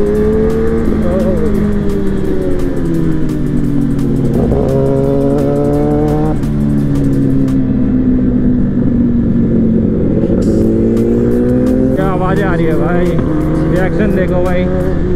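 A loud Kawasaki ZX10R sport motorcycle roars close by, its engine droning and revving with rising and falling pitch throughout, while someone talks over it.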